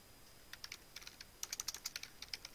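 Quiet, close typing on a computer keyboard while entering a C++ code comment, uneven clusters of light key clicks with short pauses, the last second busier and slightly sharper.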